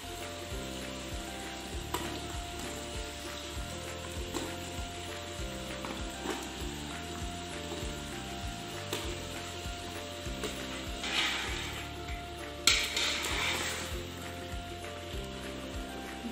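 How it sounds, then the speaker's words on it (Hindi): Steady sizzling of mutton frying in a pan, with occasional stirring scrapes and a brief louder clatter as chopped pumpkin is added. "अब हम डालेंगे इसमें अपने कटे हुए कद्दू।"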